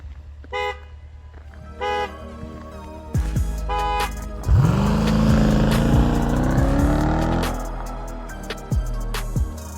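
A 2017 Jeep SRT with a 6.4-liter Hemi V8 blips its throttle after a few short horn-like tones, then revs up into a loud sustained roar that settles and fades, close by.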